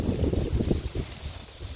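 Strong wind buffets the microphone in low, gusty rumbles, rising and falling for a couple of seconds.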